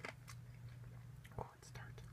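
Tart, not-quite-ripe kiwi fruit chewed right at the microphone in a close, quiet ASMR setting: soft wet bites and mastication with faint whispery breaths.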